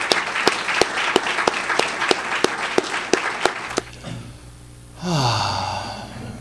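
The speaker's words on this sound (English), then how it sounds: "let's give it up for next Hall of Famer, C.J. Macias." A large audience claps and cheers for a Hall of Fame inductee at a Mastodon Hall of Fame ceremony, with steady rhythmic applause that stops and gives way to quieter room noise and a brief rising sound.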